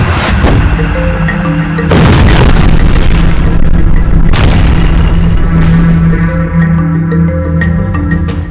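Bomb blasts in the Gaza Strip rumble as loud, dense booms, with big impacts near 2 s and 4.4 s standing out over a continuous heavy roar and layered tones.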